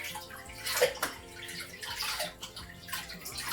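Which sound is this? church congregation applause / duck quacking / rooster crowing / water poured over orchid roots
water poured over orchid roots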